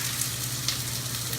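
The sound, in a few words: onions sizzling in hot oil in a saucepan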